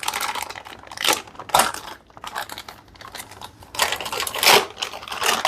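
A plastic product bag for a PC power supply being ripped open, with bursts of crinkling and tearing rustle coming in uneven waves, close and moderately loud.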